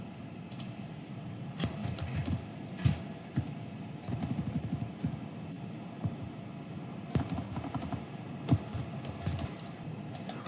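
Keys clatter on a computer keyboard in irregular bursts of typing with pauses between, close and moderately loud, no voices.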